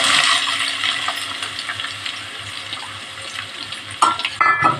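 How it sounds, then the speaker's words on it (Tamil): Three large finely chopped onions sizzle and fry in a pan for prawn biryani, with a steady crackle, soft stirring scrapes and a couple of sharp metallic clinks near the end. "வெங்காயம் போட்டு நல்லா வணக்கிக்கலாம்"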